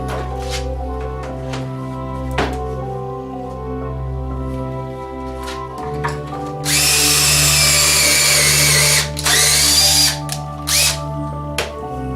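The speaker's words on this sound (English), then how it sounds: "I'm gonna set this back up and drill a hole" A power drill whines at steady speed, then bites into a wooden cornhole board with a loud, harsh grinding burst before easing off in short pulses.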